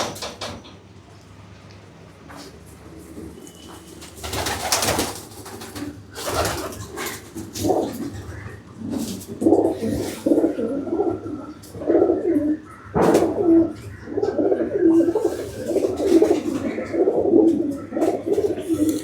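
Pakistani Teddy pigeons in a loft coo repeatedly in soft, overlapping throaty rolls, growing busier and more rhythmic after the first few seconds, with occasional clatter and faint voices in the background.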